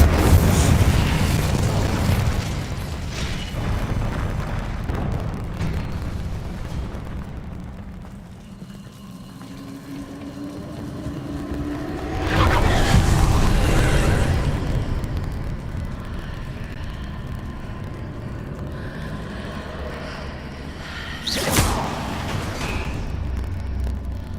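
Spell effects in the Hogwarts Legacy video game, several loud booming blasts and whooshing bursts spaced across the stretch, with rumbling swells between them.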